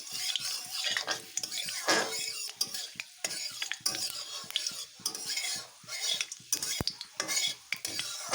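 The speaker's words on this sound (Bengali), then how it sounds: "ফোড়নটা একটু ভাজা ভাজা হয়ে যাবে" Whole spices sizzle in hot oil for a plain, simply cooked dish, frying with a steady crackle while a spoon stirs and scrapes through the pan in repeated clatters. The sound is close and moderately loud, and no one speaks.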